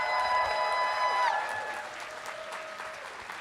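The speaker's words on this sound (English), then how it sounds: "Please give them a round of applause, too." A convention closing-ceremony audience applauds steadily, a dense wash of clapping that gradually fades, with a few held tones ringing over it at first.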